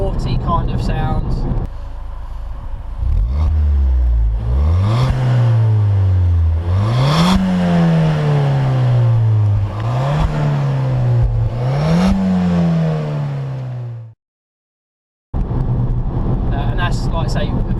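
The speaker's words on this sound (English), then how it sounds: "lovely exhaust note out of the factory" A Ford Fiesta ST 180 with its standard factory exhaust, revved up through several gear changes, the engine note climbing and dropping repeatedly, loud and close, before cutting to silence and then returning briefly.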